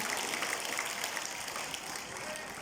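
Steady applause from an audience at a school house quiz competition, continuous clapping at moderate volume with a faint voice beneath it.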